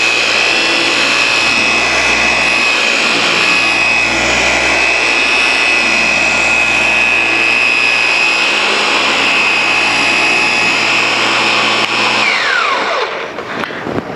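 A dual action polisher runs continuously across painted car bodywork, a steady loud whirring drone with a sustained high tone that winds down and stops near the end.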